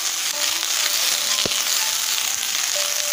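Cabbage and beans sautéing in a pan for a vegetable rice dosa, a steady close sizzle throughout with a brief stir or clatter midway.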